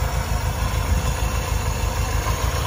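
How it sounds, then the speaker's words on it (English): A 1955 Chevrolet Bel Air convertible's first-year 265 V8 with a four-barrel carburetor idles: a steady, smooth, close low rumble with an even pulsing beat and no voices. "so you can just hear how sweet this motor runs"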